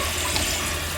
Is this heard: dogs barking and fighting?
no